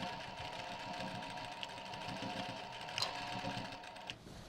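Sewing machine stitching back and forth across the bottom of a rucksack pocket, a steady close mechanical whirr running throughout with a small click near the end.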